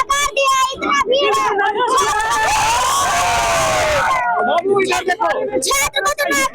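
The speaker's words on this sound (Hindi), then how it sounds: "इतना भीड़" Loud crowd of protesters in Bihar shouting and cheering together, a dense roar of many voices with children's shouts rising through it, swelling in the middle and staying close throughout.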